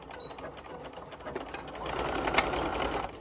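A sewing machine stitches along the edge of a tablecloth top with a steady, close, rapid mechanical whir that grows slightly louder partway through.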